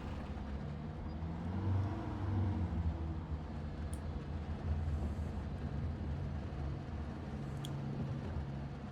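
A bus drives in the Microsoft Flight Simulator video game, giving a continuous low engine rumble and road drone with a couple of faint hissy transients, no voices.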